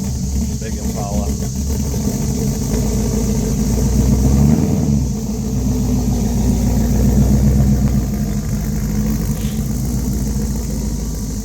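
A Redcat 64 Impala RC car's motor hums and rumbles steadily at close range, with a slight swell in the middle, under people talking.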